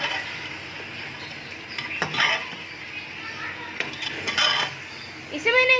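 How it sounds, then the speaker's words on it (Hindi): Beef trotters being stirred through masala in a cooking pot, with metal spoon scrapes and clinks against the pot and a faint sizzle beneath, the scraping in short bursts. "पाए को हम मसाले में अच्छे तरीके से भूनेंगे 5 से 10 मिनट के लिए।"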